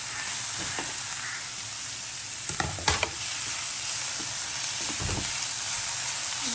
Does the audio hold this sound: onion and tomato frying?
yes